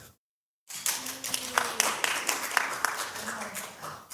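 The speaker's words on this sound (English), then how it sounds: "Please give her applause" After a brief silence, a panel audience at a G20 just-transition climate forum breaks into light, moderately close clapping that holds at an uneven level, with a voice faintly audible beneath.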